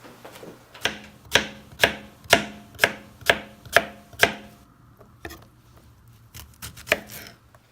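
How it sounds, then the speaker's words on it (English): A knife chops big beefsteak tomatoes on a board in a run of about eight sharp, evenly spaced strokes, followed by a quieter pause and a few scattered later cuts. "I cut up 3 tomatoes because they were big tomatoes, beefsteak tomatoes"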